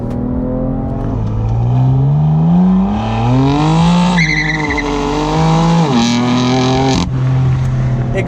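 Exhaust of a 2018 BMW M3 Competition Pack, reworked from the base M4, revving loudly and close: pitch climbs through repeated pulls, then drops sharply as it shifts down, with tire squeal on the track.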